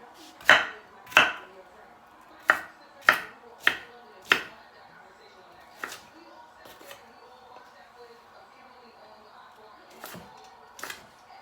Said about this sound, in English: So we're just chopping.